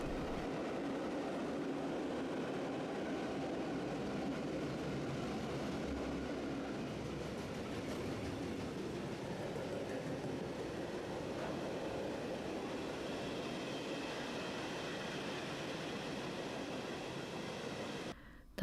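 Heidelberg tram running on rails, a steady, continuous rolling rumble of wheels with faint rail noise, sustained at an even, fairly quiet level for the whole stretch before cutting off abruptly, with no voices.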